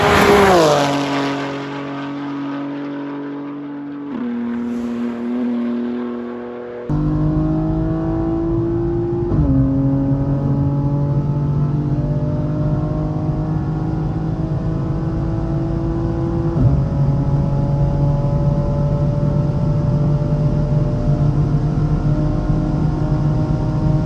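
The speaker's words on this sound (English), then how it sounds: "This car is so loud, oh my god." A tuned 750 hp BMW M3 G80 accelerating hard on the German Autobahn, its engine note climbing steadily through the gears with brief dips at each shift, loud and sustained from inside the car, no talking.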